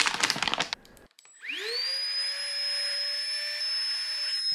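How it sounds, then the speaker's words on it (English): A Flextail portable vacuum pump starts up after some brief rustling and then runs with a steady, high-pitched motor whine, close and alone. "And Flextail has sent me this vacuum pump."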